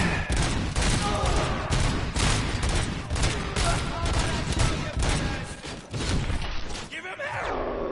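Rapid bursts of micro SMG fire in a video game, a dense continuous fusillade of shots filling the clip loudly before cutting off near the end.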